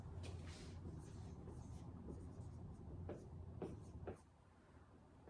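Pen or pencil scratching on paper while working out a finance problem, a series of close, quiet strokes and short scribbles with pauses between them, brief taps near the end; no speech.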